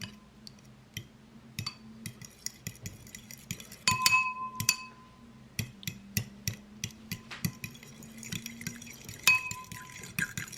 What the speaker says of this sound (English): In a bowl, you're going to crack 5 eggs, and you're going to lightly break them up and whisk them.